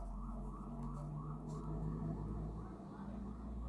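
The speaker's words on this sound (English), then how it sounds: "I think that's a police car." A police car siren wails through the street outside, faint and distant, with slow rising and falling sweeps under a steady low rumble of traffic.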